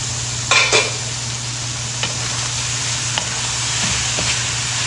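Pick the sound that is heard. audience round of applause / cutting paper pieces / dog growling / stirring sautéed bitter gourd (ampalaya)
stirring sautéed bitter gourd (ampalaya)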